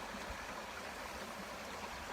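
Stream water flowing steadily with a broad, even rush and no pauses, filling the outdoor scene where frogs are being caught.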